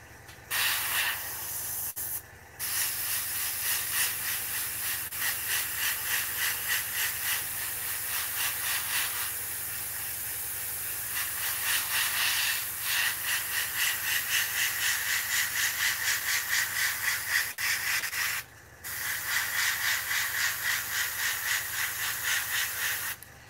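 Paint spraying from a spray gun at a workbench, a steady loud hiss running almost continuously with brief breaks near the start and again toward the end.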